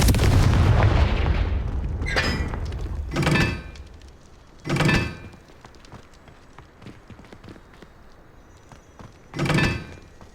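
Confringo fire spell explosions in the Hogwarts Legacy video game: a big blast up front, then several separate booming impacts spaced a few seconds apart over quieter game ambience.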